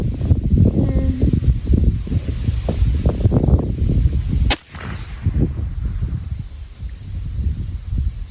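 A Ruger 10/22 rifle fires a single sharp shot outdoors while being sighted in. The report cracks loud and close midway through, with wind and rustling around it.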